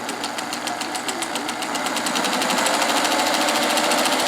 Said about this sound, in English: So you can see it's got a bit of a shake when you're sewing